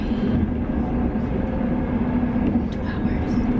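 Steady low rumble of a moving train with a constant hum and faint rattles, heard from inside a carriage at moderate volume.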